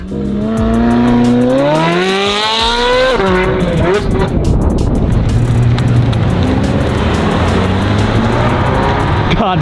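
Mercedes-AMG Black Series car driving, its engine note climbing through a rising rev and then settling into a steady, loud road roar with a harsh rushing texture.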